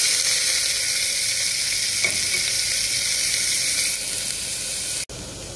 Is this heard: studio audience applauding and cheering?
no